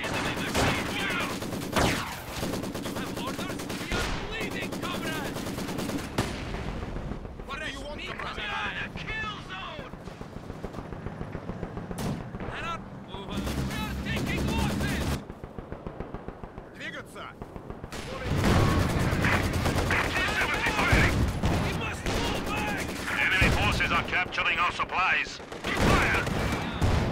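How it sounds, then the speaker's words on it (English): Machine gun bursts and heavy gunfire from a Company of Heroes 2 WW2 battle between Soviet and German forces, dense and continuous, with explosions and shouted voice lines mixed in. "Contact! Enemy machine gun!"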